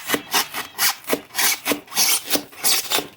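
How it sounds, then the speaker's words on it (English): Steady rhythmic scraping, like a blade sawing back and forth through card or thin wood, about a dozen even strokes close up with no talking. "I'm just kind of cutting this little rectangle out"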